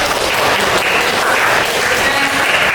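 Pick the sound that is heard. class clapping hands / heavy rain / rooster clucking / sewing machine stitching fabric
class clapping hands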